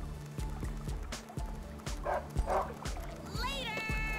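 A dog in a John Madden football video game barks in quick, repeated yaps at a steady rhythm, moderately loud among other game sounds.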